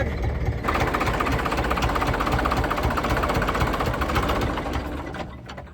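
Loud, steady throbbing fishing boat engine running nearby, a constant mechanical drone with rhythmic knocking that holds throughout, then eases slightly at the end.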